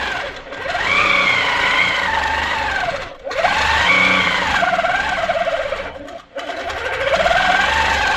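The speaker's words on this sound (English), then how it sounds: "Free motion quilting on the Amara is a joy" A sewing machine doing free motion quilting on an Amara, with a loud, continuous motor whine that rises and falls in pitch as the speed changes, broken by two short pauses.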